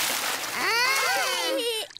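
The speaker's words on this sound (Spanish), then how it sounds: "Papá cerdito salpica a todos de agua." Water splashes as cartoon pig Daddy Pig shakes himself dry, a loud sustained spray and splatter running under bright, swooping cartoon tones, then breaking off abruptly near the end.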